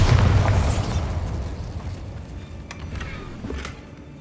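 A Bombarda blasting spell in Hogwarts Legacy bursts with a loud, close explosion, its heavy boom decaying into a rumbling tail with a few faint crackles afterward.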